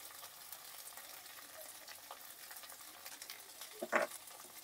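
Spice paste with turmeric frying in a pan on a low to medium gas flame for rui fish kalia, a soft, steady sizzle with a brief clatter of stirring near the end, no voices.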